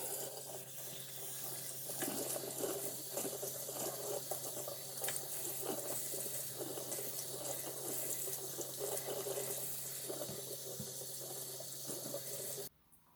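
A bathroom sink tap runs in a strong, continuous splashing stream as hair is wetted beneath it, breaking off abruptly just before the end.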